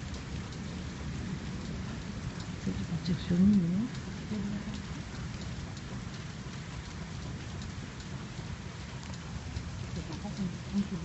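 A thunderstorm near Montferrier-sur-Lez in Occitania, France, in late November: steady rain hisses throughout while a low thunder rumble swells briefly near the start, and someone speaks French quietly over it.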